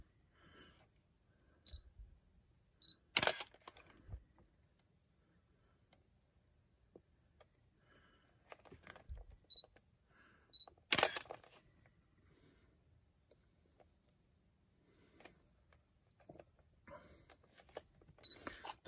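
A single-lens reflex camera autofocusing makes faint ticks and small mechanical clicks in a quiet room, with two sharp, louder clicks standing out among scattered softer ones.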